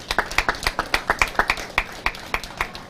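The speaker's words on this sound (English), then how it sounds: "Give them a big round of applause." Scattered clapping for livestock show exhibitors at a hometown show, sharp distinct claps in a quick uneven rhythm, close and fairly loud, from only a few hands rather than a full crowd.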